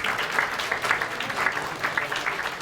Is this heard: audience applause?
yes